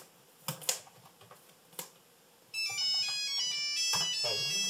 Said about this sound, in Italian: Cellulare di Gilberto!